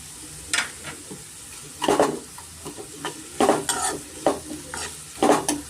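Green peas sizzling in a pan over medium flame for a spicy mushroom pepper curry, with repeated scraping stirs of a utensil in bursts over steady frying crackle.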